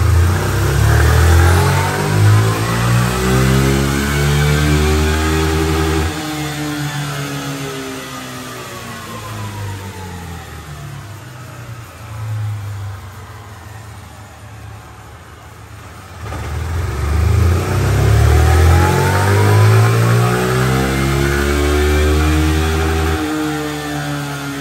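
Fórmula Racing car engine on a dyno power test, loud and close, revving up repeatedly with rising and falling pitch sweeps, easing off in the middle before climbing again to full throttle.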